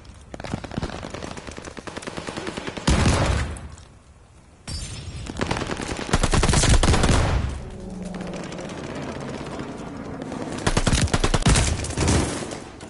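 Repeated shotgun blasts in Call of Duty Vanguard, loud, dense bursts of firing in several clusters with brief lulls between them, no talking.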